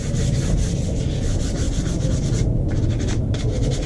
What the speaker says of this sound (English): like any sanding, you want to go in line with the grain